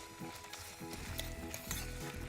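Steady sizzling of fenugreek seeds frying in hot oil, with occasional stirring scrapes and light clinks close by.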